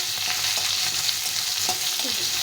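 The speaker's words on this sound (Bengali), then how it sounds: "আলুটা একটু ভাজা ভাজা করে নিলে, আলুটা সেদ্ধ হতে চায় না" Potatoes fry in a pan with a continuous loud sizzle, broken by light scraping from stirring, close and without any talk.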